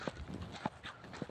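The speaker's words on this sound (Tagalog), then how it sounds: "May dala akong kabayo." Horse hooves clip-clopping at a walk in a rural rice-growing area, a few soft, evenly spaced knocks heard faintly at a moderate distance under a low background hiss.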